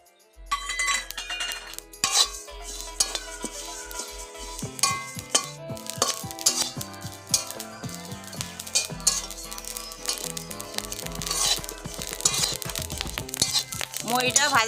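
Fennel seeds tipped into a pan and fried for a sweet mango pickle, with sharp clinks and scraping of a spoon against metal in quick irregular bursts close by, with the sizzle low beneath.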